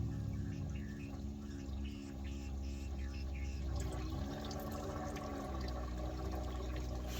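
A small pump drawing fuel out of the gas tank of a Buick Gran Sport, giving a steady low hum with a watery, gurgling flow that runs continuously and fairly quietly throughout.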